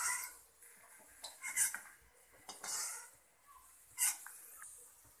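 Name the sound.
fried groundnuts transferred from pan to a separate bowl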